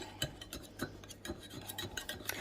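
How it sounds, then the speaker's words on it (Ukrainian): A knife cuts around the edge of a chocolate cake baked in a microwave, still in its container. Faint, close scraping strokes repeat in an uneven rhythm, with no talk. "Я його так беру ножиком і починаю по краю отако підрізати"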